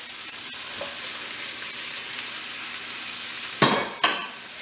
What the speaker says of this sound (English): I'm going to stir this up and let it simmer for about 20 minutes